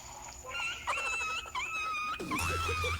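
A pinched dog whimpers and whines in a series of high, wavering cries, close and fairly loud, with a few breaks between drawn-out tones and no talking.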